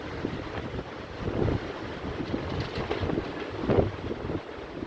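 Strong, gusty Hurricane Ian wind roars steadily against the microphone, with rushing surges swelling and fading throughout and no voices.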